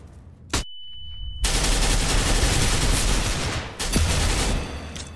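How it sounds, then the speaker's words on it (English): Desert Eagle pistol fire in Counter-Strike: Global Offensive on the Cache map: a sharp opening shot, then a loud, dense stretch of rapid gunfire with another hard blast near the end. "I put at least 2 full Deagle clips into him."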